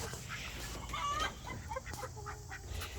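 Chickens cluck in a backyard flock near a chicken tractor ringed with hardware cloth, a few short clucks and squawks rising over steady low farmyard background noise.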